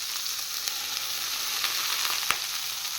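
Ivy gourd frying in a pan with salt, turmeric and green chilies, a dense, loud, unbroken sizzle close by, punctuated by a sharp utensil clatter near the end.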